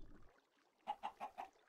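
Four evenly spaced clucks from chickens in the video game Minecraft, short and moderately near, heard alone after a brief stretch of faint background.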